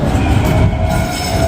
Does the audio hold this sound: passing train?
yes